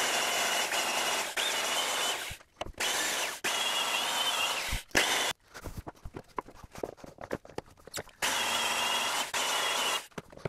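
A power sander works over a glued oak tabletop in a woodworking shop. Loud, harsh whirring comes in several long bursts separated by short pauses, with clattering handling noise between passes and no talk.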